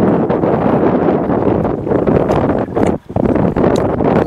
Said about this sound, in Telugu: గాలి అయితే చాలా ఎక్కువ ఉంది ఈరోజు.